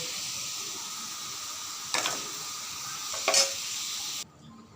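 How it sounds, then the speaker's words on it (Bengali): Potatoes frying with turmeric and salt give a soft, low sizzle in the pan, broken by two brief stirring scrapes, before the sound cuts off abruptly near the end. "আলুগুলো হলুদ লবণ দিয়ে ভেজে নিলাম, ভাজা হয়ে গেছে, এখন তুলে নেব।"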